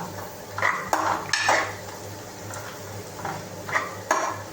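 French beans are stirred in an Indian wok (karai), with repeated metallic clinks and scrapes of a utensil against the pan over a soft, steady sizzle, close and fairly quiet.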